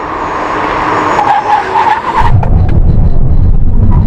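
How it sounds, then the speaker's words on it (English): Aston Martin Valkyrie, Vanquish and V12 Vantage braking hard in a brake test: loud tyre squeal and skidding over a droning engine, giving way to a heavy low rumble as the cars come to a stop. "So the next thing is the brake test."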